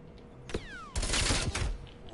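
Gunfire in a shooter game: a sharp crack with a descending whizz, then a louder, rough burst of shots about a second long, followed by another crack, near and fairly loud.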